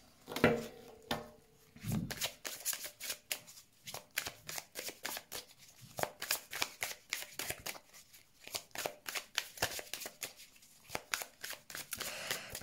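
Tarot cards being shuffled before a reading: a long run of quick, crisp riffling and slapping bursts in steady rhythm, close and fairly soft, with no talk over it.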